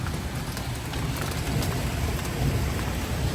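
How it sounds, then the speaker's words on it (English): Heavy rain and hail pound steadily during a sudden thunderstorm, a dense, continuous roar of drops hitting surfaces with low rumbling underneath, loud and close throughout with no voices. "As you saw, the hail, yeah, the storm was hitting hard"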